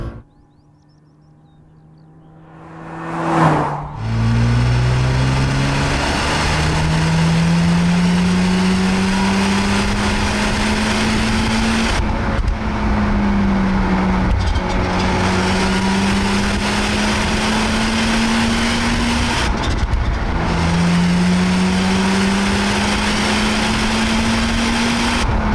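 A Mazda RX-7 FC's rotary engine revs while driving, its high, buzzing note climbing, dropping at gear changes and climbing again, loud and close, with no talk over it.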